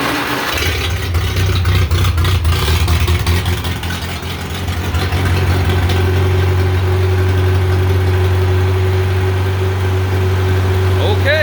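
An old tractor engine cold-starts and settles into a steady, loud idle, one of several John Deere and Farmall tractors, its low throbbing drone continuous and close after a brief labored stretch.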